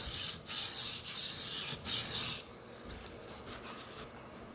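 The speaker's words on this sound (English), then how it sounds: "I'm using a medium pressure here, not too heavy, but enough force to have the stone really cutting" A dull Sabatier paring knife is ground on a Shapton whetstone under medium pressure. A close, steady abrasive rubbing comes in long strokes with short breaks between them, then fades to a faint scraping for the last couple of seconds.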